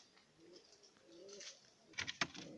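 Pigeons in a backyard loft give soft, low coos at close range, followed by a few sharper flaps or clatters near the end, all fairly quiet.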